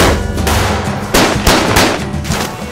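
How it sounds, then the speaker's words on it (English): Gunfight gunfire in a radio promo for a Western-style film: several loud sharp shot bursts over a dense, full mix, fairly close, with no one talking over them. "And gunfights."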